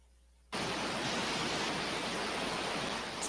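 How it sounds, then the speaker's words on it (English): White noise switches on abruptly after half a second of near silence during a spirit communication session, then holds as a loud, steady broadband hiss to the end with no talking over it. "Let's throw some white noise in there."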